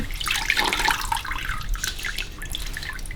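Water from freshly washed hair being wrung out during an off-grid bucket bath splashes and drips close by into a container, a brief cluster of patters and trickles.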